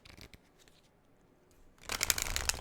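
Tarot cards being shuffled, a few faint flicks early on, then a near, crisp riffle of cards that builds and keeps going to the end.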